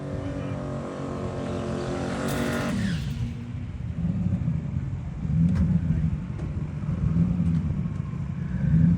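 A race car on a timed lap at a summer racing event, its engine droning loud and steady, rising in pitch as it passes, then settling into a lower rumble that swells and fades.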